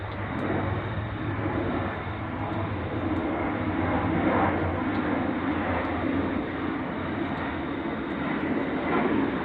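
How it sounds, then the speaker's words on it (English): An airplane passes overhead in a green area, a steady broad engine roar that stays loud and constant throughout without fading. "There's the plane in front of me as I said that."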